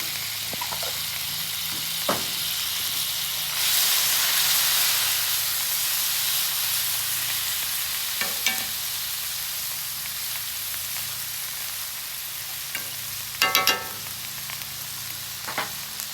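Garlic sizzles in a pan for an Alfredo sauce on a griddle cook, a steady soft frying hiss with a louder steamy swell, broken by scattered utensil clinks and scrapes.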